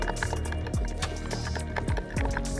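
Horse hoofbeats in Red Dead Redemption 2, a steady clip-clop gallop through green jungle terrain, rhythmic and close with a brief lull near the end.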